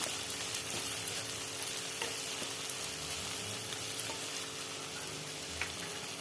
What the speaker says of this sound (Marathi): थोडा गॅस कमी करून ह्याला आपण छान परतून घेऊया.